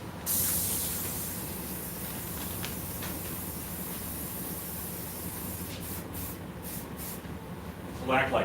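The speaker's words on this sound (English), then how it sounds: "Will act like hairspray, hold the hair where I want it to." Hairspray is sprayed onto hair in a long, continuous hiss close by, lasting several seconds before a brief voice at the end.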